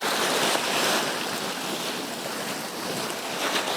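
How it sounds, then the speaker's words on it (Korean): Strong sea waves wash in steadily beside the old stone city walls of Dubrovnik, a continuous broad surf roar with wind buffeting the microphone, close and loud with no voices. "파도가 근데 꽤 세."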